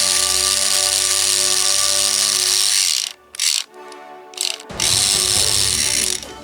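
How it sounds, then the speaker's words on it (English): Battery-powered Plarail Stephen toy train motor, a loud steady whirring drone with gear rattle that cuts out briefly midway, stutters, then starts whirring again, close up. "Very noisy motor"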